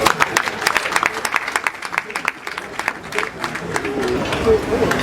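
An audience at a wedding gathering claps together in a busy burst of applause mixed with crowd murmur, fairly loud and sustained for several seconds.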